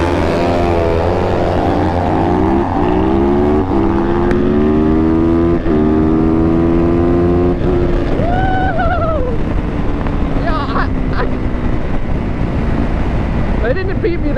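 Brand new dirt bikes at a dirt bike race, with an engine revving in rising and falling pitch through heavy wind noise. A second engine whines up briefly in the middle, and a voice speaks under the noise.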